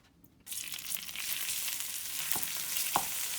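Food sizzles in a frying pan while it finishes cooking, a steady hissing crackle that starts abruptly after a brief quiet moment, with a couple of soft knocks from utensils.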